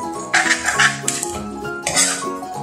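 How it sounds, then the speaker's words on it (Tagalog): Pork is tipped into a metal cooking pot for palabok, with a few sharp metallic clinks and clatters of utensil against pot in two short bursts. "Let's add the pork here."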